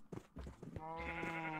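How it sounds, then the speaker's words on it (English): Minecraft sheep bleat in a game, a couple of short wavering tonal calls that rise out of quieter game noise and then hold steady, close and fairly soft. "Come on, sheep."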